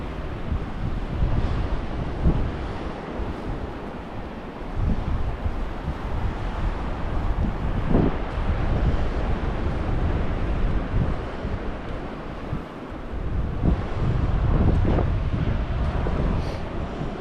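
A strong headwind blows along the beach at Botany Bay Plantation in South Carolina, a steady loud roar buffeting the microphone with surf in the background and no talking.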